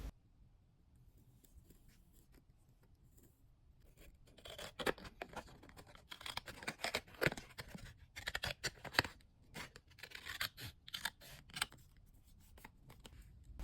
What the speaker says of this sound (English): I also cut out a pocket shape using a similar shade of green.